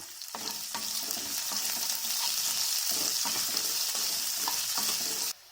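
Onions sizzle steadily in a hot pan while being sautéed for a yellow pumpkin stir-fry, broken by repeated scraping and stirring sounds, close and continuous until it stops abruptly.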